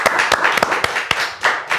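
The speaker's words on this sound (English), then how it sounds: "Round of applause for GASWORKS." Studio audience applause greets a podcast show, a burst of close, crisp hand claps with uneven sharp peaks over a dense clapping wash, brief and fairly loud.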